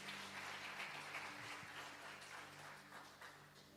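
A church congregation applauds at a worship service, a broad steady wash of many hands clapping that holds for several seconds and slowly eases off, with a faint hum underneath.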